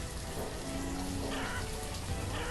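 Rain falls steadily in the town-building game Banished, a dense, even hiss of drops on surfaces that holds constant throughout.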